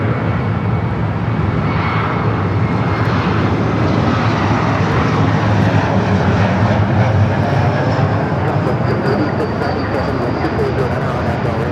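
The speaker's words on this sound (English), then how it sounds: "American Eagle, E-Jet up next for arrival." American Eagle E-Jet arriving at Los Angeles International Airport, a loud, sustained jet roar that fills the whole span, with voices talking underneath.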